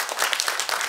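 An audience applauds at a violin carol concert in a Lublin cultural centre, a dense burst of many hands clapping together, close and loud, with no voices over it.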